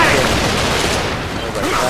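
Heavy gunfire in the video game Gears of War 3, a dense, continuous barrage of shots that runs loud and unbroken for the whole moment, with game voices calling out over it.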